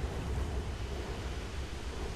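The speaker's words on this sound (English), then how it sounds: "As he drains out the ocean" A vast ocean drains away in the God of War III video game, a continuous loud roaring rush of water with a steady, unbroken hiss and low rumble.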